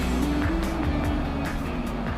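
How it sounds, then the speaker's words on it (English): Rolls-Royce Phantom 6.75-litre all-aluminium V12 giving a steady, smooth low-pitched engine hum with a soft, even drone throughout. "The remarkably compact all-aluminium V12 engine is designed to deliver low-end torque rather than screaming top-end speed"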